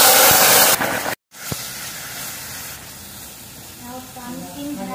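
Ground sweet pumpkin frying in ghee for thinai pumpkin halwa, a steady hiss and sizzle that drops out briefly before resuming more softly, with faint voice near the end.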